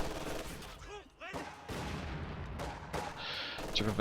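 Bursts of Maxim machine gun fire in Company of Heroes 2, rattling at mid distance amid other battlefield gunfire and explosions, with a commentator's voice intermittently over the combat.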